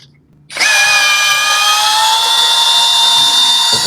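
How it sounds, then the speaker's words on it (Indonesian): A cordless Tankmor drill bores into concrete, starting abruptly after a quiet moment and then running at a loud, steady high-pitched whine until the end. "Sekarang pengujian barbar yang terakhir ya, kita uji untuk pengeboran beton."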